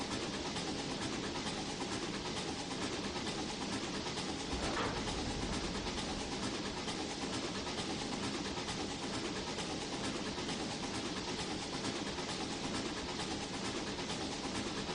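A C&O K2 Mikado steam locomotive running in the Trainz 2019 railway simulator, a steady, dense rumble and chuff that holds even throughout, with one brief swell partway through.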